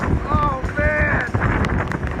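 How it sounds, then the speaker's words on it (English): Roaring 100-mile-an-hour hurricane wind from Hurricane Irma in Fort Myers, Florida, buffets loudly and steadily with gusty surges, while voices and shouts break through on top. "100-mile-an-hour wind, baby."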